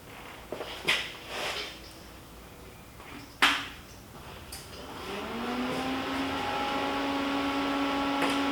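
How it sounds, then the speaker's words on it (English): A Hobart Stickmate 160i stick welder runs after a few clicks and knocks, settling into a steady, moderately loud hum with a rising whine that holds evenly to the end. "Pretty quiet machine. It does have the typical sound that most welders have got."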